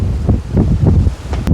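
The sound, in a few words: strong wind blowing in mountains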